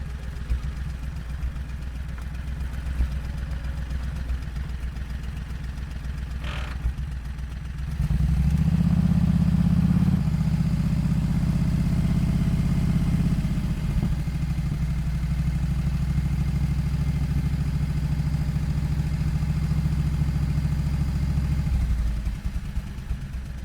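A Renault car fitted with a 670 cc Predator small engine idles, then revs up loudly as it reverses into a garage, holding a steady buzzing drone for several seconds before dropping back to a quieter idle.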